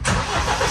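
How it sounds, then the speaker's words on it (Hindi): A Maruti Grand Vitara car engine starts up close and loud, a brief cranking burst that settles straight into a steady running rumble, with no voices. "करते हैं गाड़ी एक बार स्टार्ट"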